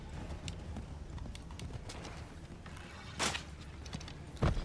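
Horse hooves clip-clopping in the video game Assassin's Creed III Remastered, a faint steady walking gait with a couple of louder thumps near the end.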